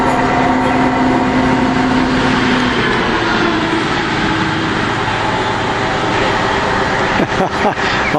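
A railway track machine rolls past as a loud, continuous rumbling roar with a steady drone that fades partway through, closing with a few clanks.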